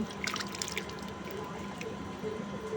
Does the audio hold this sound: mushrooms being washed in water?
yes